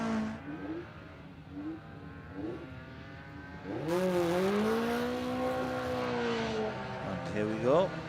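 BMW rally cars rev and drive past on a stage of the Harlech rally, their engine pitch rising and sweeping as they pass at moderate distance, with a louder engine swell in the second half.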